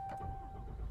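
A 2017 Ram 2500 Laramie Crew Cab 4x4 pickup fires up via push-button start, a brief, steady, close engine rumble with a faint tonal whine running through the second.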